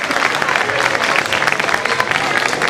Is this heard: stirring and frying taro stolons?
no